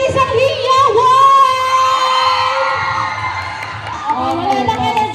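Fans at a BTS fan meet-up in a Cabanatuan City mall screaming and cheering loudly, high shrill shrieks and whoops from a crowd swelling, dipping, then rising again.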